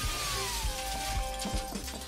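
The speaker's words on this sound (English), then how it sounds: "Is that the window shattering?" A window shatters in the video game The Sexy Brutale, heard as a dense crash with scattered tinkling fragments over a busy game background of music and tones.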